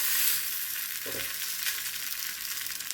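A gluten-free copycat Crunchwrap Supreme sizzles in a pan on low heat just after being flipped, a steady close frying hiss with a brief soft scrape of the pan.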